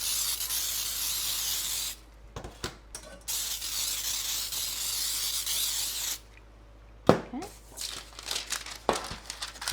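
Cooking spray hisses steadily onto two 8-inch cake pans for about two seconds. Crinkly handling noises follow, then a second long spray burst and more rustling and clatter. No one speaks.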